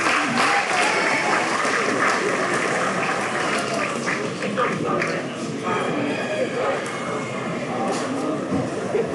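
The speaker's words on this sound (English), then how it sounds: "Please give those three kids a round of applause" Crowd applause at a swine show for three kids in the ring, a sustained patter of clapping from many people in an indoor arena, with an announcer's voice over it.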